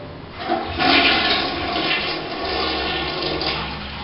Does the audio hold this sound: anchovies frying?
no